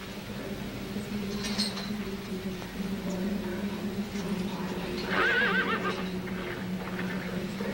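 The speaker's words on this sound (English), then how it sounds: "That poor horse." A horse neighs in a film scene, giving one clear whinny over a constant low hum and faint hoof clatter, fairly close and loud against the steady background.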